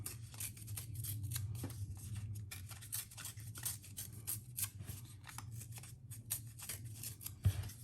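Coffee-dyed paper being torn along its edges for a fall craft cluster: a run of close, scratchy ripping and rustling bursts, steady and fairly near, with no voices.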